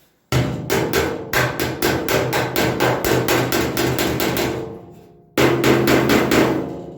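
Quick, evenly spaced hammer blows on car body sheet metal over a dolly with a hollow ring, close and loud, stopping briefly before another fast burst.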